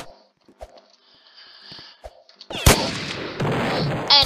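A zombie-escape video game is played on a laptop. After quiet clicks and small in-game noises, a sharp gunshot crack bursts out, followed by a loud stretch of noisy game action.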